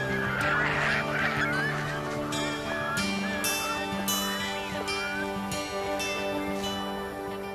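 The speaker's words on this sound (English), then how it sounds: "Thousands of waterfowl come to rest at the salt lakes and ponds." A large flock of waterfowl resting at salt lakes and ponds before migrating south honks and calls continuously, a dense overlapping chorus of geese-like cries that is steady and fairly close.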